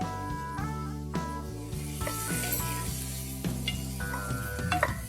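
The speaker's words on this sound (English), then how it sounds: "But just a load of mixed vegetables. In they go." Mixed vegetables tumble into a chicken stew pot with a brief clatter, then a soft sizzle and stirring follow under steady background music.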